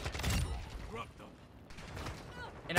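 A Kastov 545 rifle being reloaded in a video game: a quick run of mechanical clicks and metallic clatter, with a voice talking over part of it.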